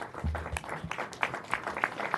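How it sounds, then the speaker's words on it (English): Audience applause for an honoree at a city council meeting, a scattered clapping texture over 2 seconds with a low murmur beneath and a few sharper claps standing out. "give him a round of applause"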